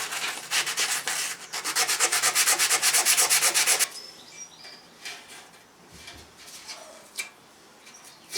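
Hand rubbing down bodywork produces about four seconds of fast, rhythmic abrasive strokes, then quieter, scattered scuffing with faint birdsong in the background.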